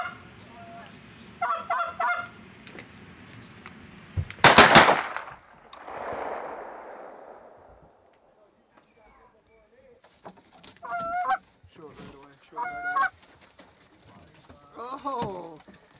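Canada geese honk during a goose hunt: repeated clear honks near and far, a loud gunshot blast with echoing tail, then more scattered honking calls, with people talking at times.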